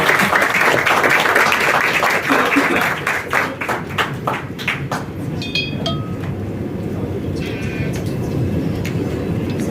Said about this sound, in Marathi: जोरात टाळ्या होऊन जाऊ दे यांच्यासाठी.